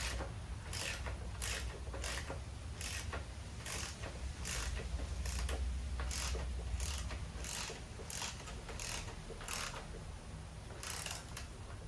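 A ratchet tightens a bolt on the cooling fan of a 2011 Toyota RAV4, giving a steady run of crisp, evenly spaced clicks close by, with no talking.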